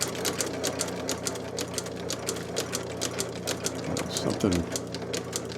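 A sewing machine stitches steadily in a workshop with a fast, even mechanical chatter throughout, and a brief spoken word cuts in over it.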